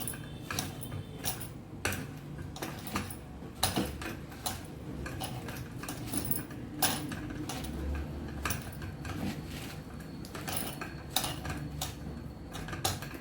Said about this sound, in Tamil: இப்போ எல்லாத்தையும் போட்டு கையாலேயே மிக்ஸ் பண்ணிக்கலாம்.